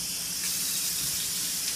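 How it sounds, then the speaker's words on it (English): Cold water gushes steadily from a kitchen sink tap, a continuous close hiss and rush with no voices, run during a pressure cooker quick release. "I turn on cold water"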